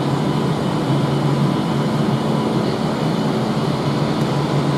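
Steady broadband rumble of an Avanti West Coast Class 390 electric passenger train pulling away from a platform at London Euston at close range, a continuous roar with no distinct clicks or voices.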